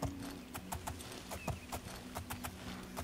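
Horse hooves clip-clop at a steady walking rhythm in the video game Oblivion, a close, moderately loud series of hollow knocks heard alone with no talking.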